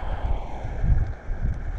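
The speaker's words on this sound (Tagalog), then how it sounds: "malakas po ang alon at saka hangin" Strong wind and rough sea waves beat against a seawall by the seaside, a loud low rumble and roar with gusty swells buffeting the microphone.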